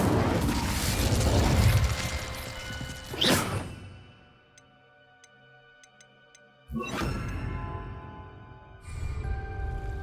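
A fire spell is cast in the Hogwarts Legacy video game, with loud roaring whooshes of flame that rise and cut off, a quiet gap of faint ticking between them, and another fiery burst afterward.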